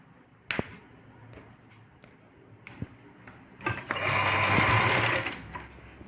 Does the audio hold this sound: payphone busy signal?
no